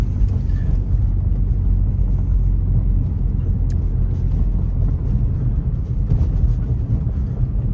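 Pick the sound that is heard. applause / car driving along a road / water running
car driving along a road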